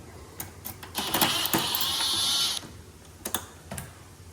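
Screws come out of the control board bracket of an Aga oven as a series of close mechanical clicks and taps, and in the middle a sustained whirring buzz, like a power screwdriver running, lasts about a second and a half.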